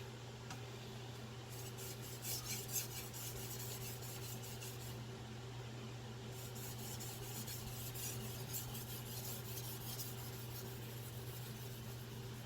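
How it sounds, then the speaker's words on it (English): Victorinox 8-inch chef knife sharpened on a Chosera whetstone, a continuous soft rasping scrape of steel on stone with repeated back-and-forth strokes, close and steady over a low background hum, with no talking. "This knife just gliding on this stone"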